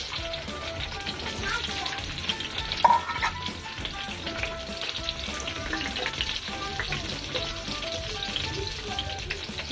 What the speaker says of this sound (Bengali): তেলটা গরম হয়ে গেছে, এর ভিতর দিয়ে দেব সেদ্ধ আলুগুলো। আলুগুলো আমি হালকা ভেজে নেব।